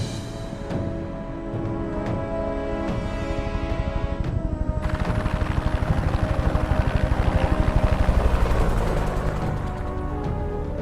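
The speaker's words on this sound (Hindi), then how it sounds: "हेलीकॉप्टर निकल गया है।" A helicopter flies overhead as a movie sound effect, its rotor chop thudding in a steady, loud, rapid rhythm with a whining turbine, swelling slightly as it passes.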